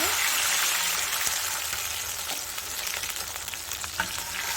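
Water poured into a pan of frying potato and chilli flakes sets off a loud, hissing sizzle that fills the whole stretch, with a few small clinks of stirring.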